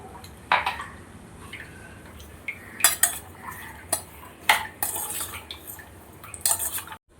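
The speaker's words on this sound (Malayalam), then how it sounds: "ഉപ്പിട്ട് നന്നായിട്ടൊന്ന് ഇളക്കി വയ്ക്കണം" Cut mango pieces being stirred with salt in a bowl for Onam pickle: close, quiet metal spoon clinks and scrapes come in scattered bursts with soft wet shuffling, and no voices.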